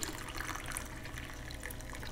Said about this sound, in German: Muss ich mir direkt mal einen Kaffee einschenken hier.